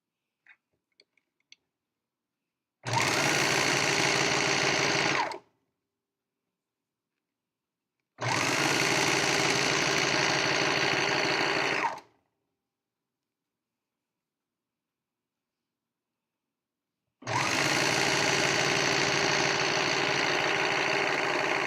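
A sewing machine stitches sleeve seams in three separate runs of steady, fast whirring, each a few seconds long, separated by silence.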